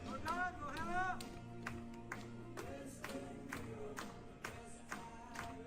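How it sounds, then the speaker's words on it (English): At a recorded dance competition event in Albany, a crowd claps along in a regular sharp rhythm over music, with a voice talking over it. "the recorded crowd in Albany is clapping along"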